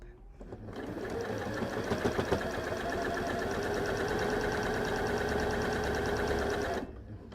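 A sewing machine runs steadily, stitching down the joined top edges of fabric for a Morsbag, one continuous close whir for about six seconds before stopping.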